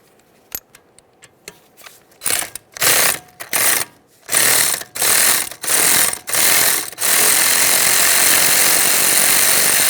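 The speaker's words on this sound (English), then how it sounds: "We'll remove the mounting bolt." Hand ratchet loosening an 8mm-head brake hose bracket bolt on the rear knuckle of a 2013–2020 Ford Fusion: a few sharp clicks, then several dense bursts of rapid clicking, ending in a steady continuous whir, close and alone.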